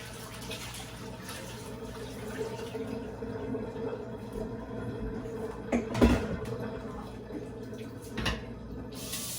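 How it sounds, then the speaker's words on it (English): Cold tap water runs over grated potatoes in a colander in a kitchen sink, a steady splashing hiss with a few louder clunks and rattles partway through, close by with no talk. "strain them into my sink, into a colander, and we are going to give them a nice rinse with cold water"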